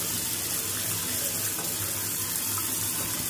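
Water pours steadily from cooked rice being drained through a strainer for white biryani, a continuous close rushing splash with no talk over it.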